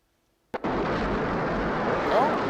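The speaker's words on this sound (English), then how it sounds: "Oh, that was an Aquaman explosion." A sudden loud explosion from the 1976 film Logan's Run bursts in after near silence and rolls on as a dense, sustained roar of blast and debris.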